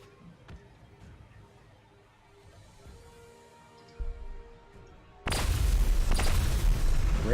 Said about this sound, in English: Ranged artillery firing in.